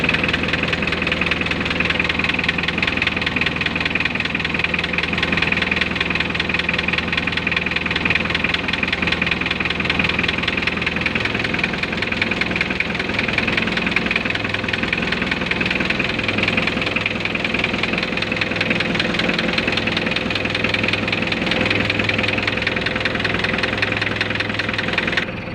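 A vehicle engine left unused for a long time idles steadily after being started, with a rough, rhythmic knocking running through the drone. It stays loud and continuous throughout with no talking.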